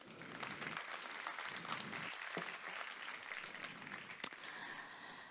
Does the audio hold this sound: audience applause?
yes